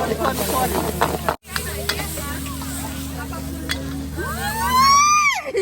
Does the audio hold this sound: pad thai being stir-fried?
yes